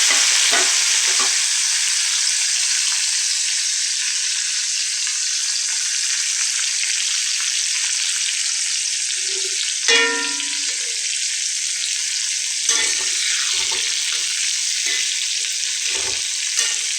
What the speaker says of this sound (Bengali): এবারে আমি ফুলকপিগুলো কড়াতে দিয়ে দেব।